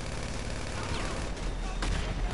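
In GTA Online, bursts of rapid gunfire from a motorbike shootout crackle densely and loudly for a couple of seconds, a hectic game soundscape with little pause.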